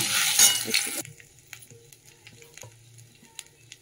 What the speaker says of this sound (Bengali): এবারে ফোড়ন করে নিচ্ছি